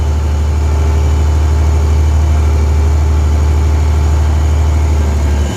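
A New Holland TM1200 tractor engine runs at a steady, loud, low drone throughout, with a constant deep rumble and no voices.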